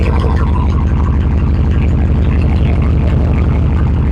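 A truck engine with a custom exhaust fitted with small turn-downs after the caps idles steadily and loud up close, a smooth low rumble with no rattles, alone without talk.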